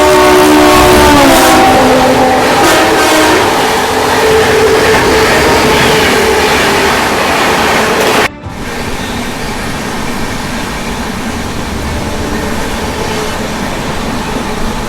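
The Howrah Rajdhani express rushes past at close range, a loud, steady roar of wheels and carriages with a bright horn-like tone early on, cutting abruptly to a lower, rougher rumble as it continues by.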